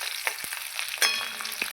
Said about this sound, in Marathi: मिरची थोडीशी अशी परतून झाली की त्यामध्ये बटाटा साल न काढतात त्याचा बारीक कट करून घेतला आणि तो घालून घेतला